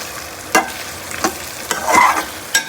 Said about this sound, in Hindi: अब हम इसकी थोड़ी सी भुनाई करेंगे